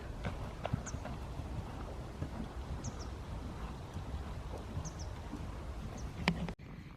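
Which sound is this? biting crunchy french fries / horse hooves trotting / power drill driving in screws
horse hooves trotting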